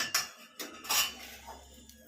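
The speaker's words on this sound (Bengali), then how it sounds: "তুলে নিয়ে এই প্লেটে রাখছি" A fried aloo paratha is lifted from a pan and set on a plate, giving a few quiet, close clinks and scrapes of utensil against metal and dish.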